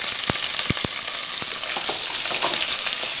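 Onion added to a pan of golden garlic for Brazilian-style salt cod with pineapple, a loud close sizzle with a few sharp stirring taps early on.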